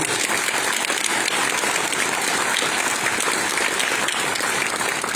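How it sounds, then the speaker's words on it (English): Banquet guests at a hall of fame dinner clap for an organization's new leadership, a broad, sustained round of applause from a roomful of people, steady and fairly soft, with no speech over it. "I'd like a round of applause for the new leadership that had a lot to do."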